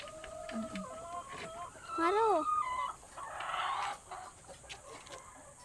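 Chickens cluck in bursts with a few higher rising calls, moderately close in an outdoor farmyard setting, with a short spoken greeting and other talk mixed in and background ambience throughout.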